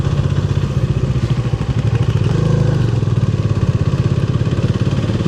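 A hired motorcycle engine on the road up to Parasnath runs close and loud with a steady rapid throbbing pulse that holds throughout.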